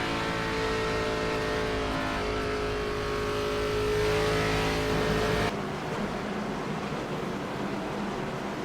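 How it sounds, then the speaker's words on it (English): Race car engine in the iRacing sim at Michigan, steady loud drone that lifts off throttle partway through, pitch and intensity dropping to a lower rumble under caution. "Rolling out of the throttle"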